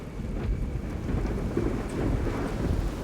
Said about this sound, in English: Since time immemorial, tropical downpours have soaked the Isthmus of Panama.